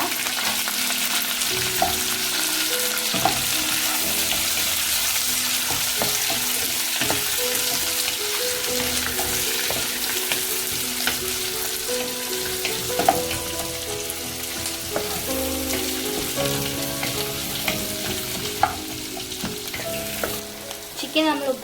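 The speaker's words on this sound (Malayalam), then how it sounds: "ഇതിലേക്ക് നമുക്ക് കാപ്സിക്കം അരിഞ്ഞത്, സവോള അരിഞ്ഞത് ഇടാം." Chopped capsicum and onion fry in a hot pan for a bread and chicken snack, sizzling steadily and loudly throughout, with occasional stirring scrapes and clinks over the continuous crackle.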